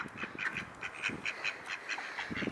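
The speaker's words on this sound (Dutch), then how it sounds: "er zitten hier dus echt super random drie eenden voor de deur" Three ducks outside a front door quack repeatedly while being fed bread, a close, busy run of short nasal calls overlapping one another with no talking.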